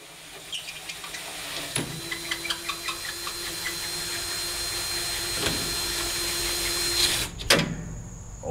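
A power drill bores into square steel tubing on a utility trailer: a few light clicks first, then a steady motor whine held for about five seconds, ending in a sharp clunk and rattle.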